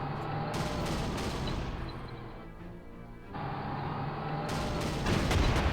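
Mobile anti-aircraft cannons open up in the World War II strategy game Panzer Corps, Afrika Korps campaign. Rapid, fairly quiet bursts of cannon fire cut out for about a second midway, then resume over a steady low rumble.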